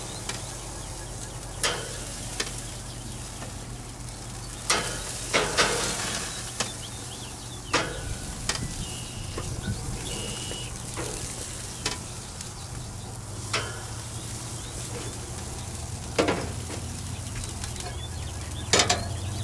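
Turkey burgers sizzle steadily on a grill, a continuous close frying hiss with scattered sharp pops and crackles throughout, no talk.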